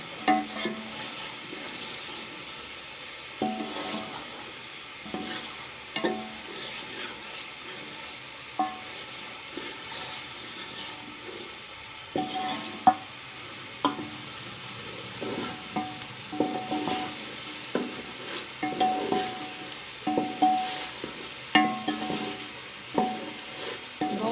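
Cut potatoes cook in a pan with a splash of water for kadhi pakora, making a low, quiet sizzle punctuated by irregular stirring scrapes and clinks of a utensil against the pan.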